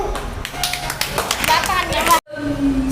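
Students at an English-speaking class prize distribution clap in a lively, uneven patter with children's voices mixed in, cutting off abruptly near the end.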